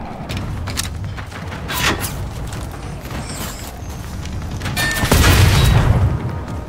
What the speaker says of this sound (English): Ah, that was a big explosion.